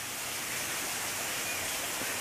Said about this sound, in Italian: questo tubo in cui esce un bel rigagnolo d'acqua